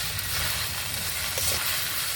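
Spices, cashews, raisins and curry leaves frying in a pan with chili and turmeric powder, a continuous close hiss and crackle of sizzling oil, with faint stirring scrapes.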